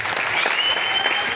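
A seated audience at an opening ceremony for a karate event in Kombolcha claps in a dense, steady burst of applause, close and fairly loud, with no clear speech over it.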